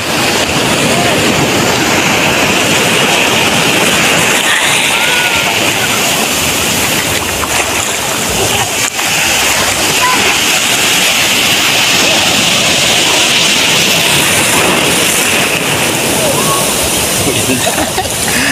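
A steady, loud roar of surf rolling and breaking, continuous wash of water with no pause throughout.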